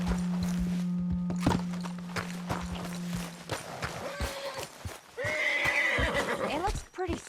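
A spooked horse in the Western game Red Dead Redemption 2 gives a sharp whinny amid clip-clopping hooves and footsteps, with a voice speaking over it and a steady tone early on.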